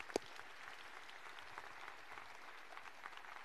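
An audience in a university lecture hall applauds the course staff, a steady, fairly faint patter of many hands clapping throughout.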